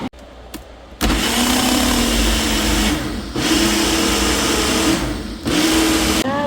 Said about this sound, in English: Using food processor, I'm gonna mix this until completely combined.